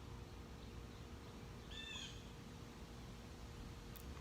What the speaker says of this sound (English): Also, if you didn't know, that's a blue jay.